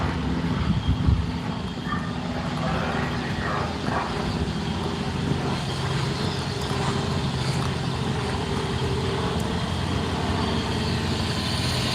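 A Los Angeles fire truck's engine rumbles steadily and loudly at an emergency call, with reversing beeps mixed into the continuous mechanical drone.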